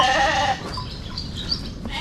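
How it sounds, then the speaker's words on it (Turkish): Sheep on a farm let out a short, strained bleat at the start, followed by quieter barnyard noise and faint rustling. "Koyun bu."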